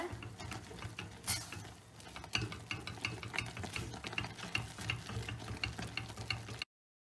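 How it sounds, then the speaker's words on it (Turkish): A spoon stirs flour into boiling water on the stove for churros dough, giving soft continuous scraping and sticky patting against the pot in a quick steady rhythm, close and quiet, then stopping abruptly. "Unumu koyuyorum ve altını kısacağım. Bunun topak topak olmaması lazım. O yüzden karıştıracağım sürekli."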